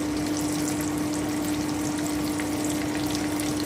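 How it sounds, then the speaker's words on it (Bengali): Butter melting with two bay leaves in a hot pan, a steady close sizzling hiss with a faint underlying hum throughout. "আমি বাটার দিয়ে দিচ্ছি একটু ভালো করে একটু মেল্ট করে নেব আমি তেজপাতা দুটো দিয়ে দিলাম"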